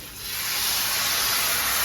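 Rice batter for ghavan hitting a hot oiled griddle, a steady broad hiss that swells within the first half second and then holds loud and even, close up with no talk.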